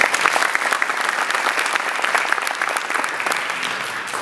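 Dense, steady applause from an audience at a Saudi club gathering in Daytona Beach, Florida, welcoming guests from Orlando, loud and sustained throughout with no pauses.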